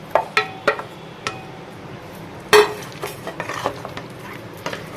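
A utensil stirs pasta and vegetables in a pan of white sauce, giving scattered clinks and scrapes against the pan over a soft, faint sizzle.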